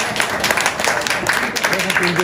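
Audience at an anniversary evening gathering applauds steadily for a longtime service provider, a dense, continuous wash of clapping with crowd murmur underneath throughout.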